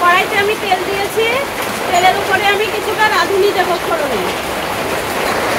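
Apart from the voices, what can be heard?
heavy rain falling outside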